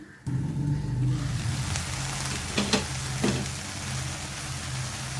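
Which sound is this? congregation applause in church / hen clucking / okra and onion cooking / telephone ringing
okra and onion cooking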